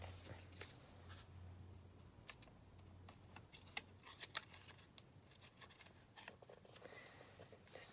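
A piece of book page being torn by hand for a junk journal, quiet close-up ripping and crinkling in short irregular bursts with soft paper handling in between, no speech.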